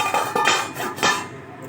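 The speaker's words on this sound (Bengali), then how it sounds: "একটু সবজিটা সিদ্ধ হয়ে নিক। এবার ঢেকে দিলাম।" A metal lid is set onto a cooking pot of vegetables for sukta, giving a few close clattering clinks and a ringing knock before fading to quiet.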